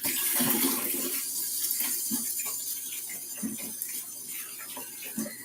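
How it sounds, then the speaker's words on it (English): Running tap water splashing over hands at a kitchen sink before cooking, a steady broadband wash with intermittent soft thumps and splashes, close and moderately loud, with no talking. "Let me wash my hands."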